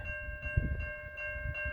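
An eastbound CN freight train rumbles steadily past a crossing on East Townline Road in Newtonville, Ontario, with low wheel clatter under the constant ringing of crossing bells.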